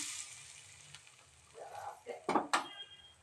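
Ghee-fried cashews being tipped into thiruvathirai kali: soft sizzling and a faint hiss, then a few quick metallic scrapes and clinks of a spoon against the pan, close but quiet.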